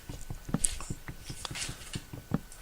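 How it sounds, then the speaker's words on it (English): A cat plays in a cardboard box nearby, making irregular scratchy rustles and light taps at a low level, scattered through the moment with no talking. "something rustling around, that's my cat playing in a cardboard box"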